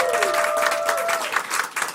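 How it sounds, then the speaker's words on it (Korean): A lecture audience breaks into scattered clapping, a few rhythmic bursts of applause in a hall with some voices mixed in. "박수 칠 거면 확실히 치든지."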